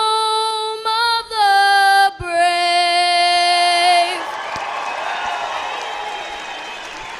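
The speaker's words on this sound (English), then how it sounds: "How about a big round of applause for Asha Lawal?" At a sports game in Gillette, a singer holds the final sustained notes of the national anthem, then the crowd breaks into broad applause mixed with cheers and whoops that carries on steadily to the end.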